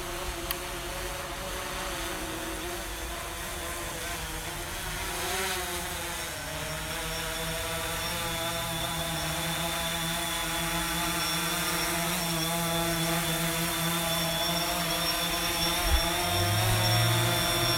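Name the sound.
DJI Phantom 3 SE drone flying and landing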